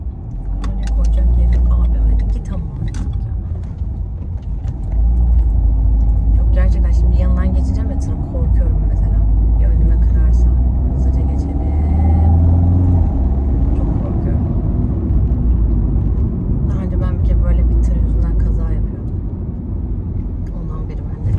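From inside a moving car, a steady low engine and road rumble fills the cabin, dipping briefly at times, while a voice can be heard over it.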